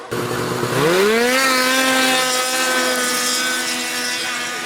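Stock 800-class racing snowmobiles roar off the line in a hill drag race at Edelweiss, Quebec, engines rising steadily in pitch as they climb, loud and close throughout.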